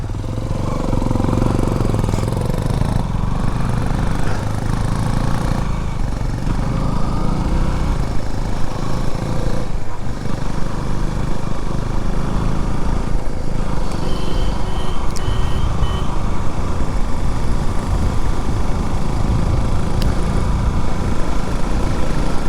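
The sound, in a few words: motorcycle riding on a single-lane road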